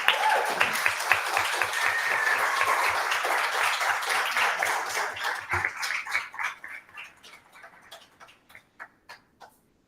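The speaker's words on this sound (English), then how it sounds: "We could just give them one final round of applause" An audience at an undergraduate research awards event gives a final round of applause for award recipients; the full, even clapping gradually fades into a scattering of individual claps before dying away.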